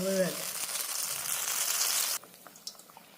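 Vada frying in hot oil, a loud, steady sizzle that starts with a brief voice and then drops suddenly to a quieter crackle with scattered pops.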